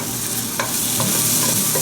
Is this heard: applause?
no